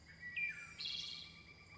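Birds calling in a forest by a river, a few faint chirps and a brief warbling phrase over quiet background ambience.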